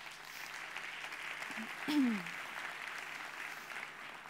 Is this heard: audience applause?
yes